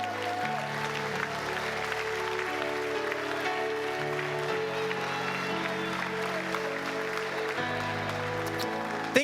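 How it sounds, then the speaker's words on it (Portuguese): A church congregation claps steadily through a sustained keyboard and music backing during an evening service, the applause a continuous wash of hands beneath the held chords. "Será que você vai aplaudir o Senhor nessa noite?"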